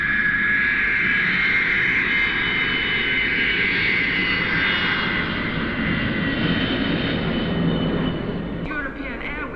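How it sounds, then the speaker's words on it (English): A fixed-wing airliner arriving at an airport roars as a broad, loud, sustained engine drone with a high whine riding on top, easing slightly near the end. "European Airways announced the arrival of their flight 515."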